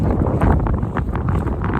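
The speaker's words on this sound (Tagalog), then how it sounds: "Grabe nasa hangin." Heavy wind blasts across the microphone on a football field, a loud low rumbling roar with fluttering gusts throughout.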